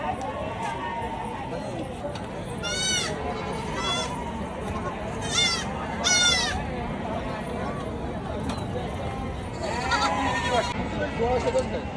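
Several goats bleat in repeated wavering calls amid a busy outdoor crowd at a large goat and sheep market in Chakan, Maharashtra, with people talking throughout and hoofbeats mixed in.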